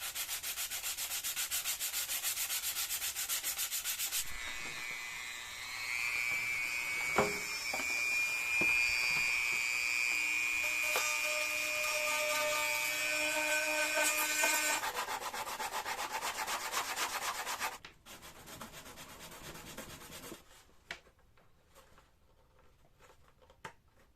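Electric motorcycle body panels on an Energica Eva are sanded smooth by hand, a steady close scratchy rubbing that runs for several seconds, then pauses and resumes briefly before stopping, with no talk.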